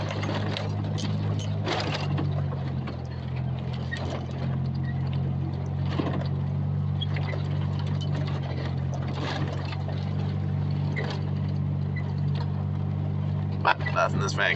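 A van engine labours up a very steep road, a low, steady drone that runs throughout with faint clattering from the cabin and a brief knock near the end.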